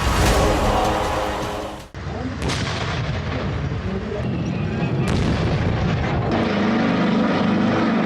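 Chinese-supplied fighter jets fly over a military drill at Gujranwala, a loud broadband roar with sharp booming blasts, like artillery or gunfire, cutting through it, continuous across the whole stretch.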